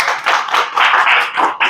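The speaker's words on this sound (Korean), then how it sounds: "박수 맞아주세요." Audience applause at a pain seminar for non-medical attendees, a short burst of steady, close, fairly loud clapping from a small group with no speech over it.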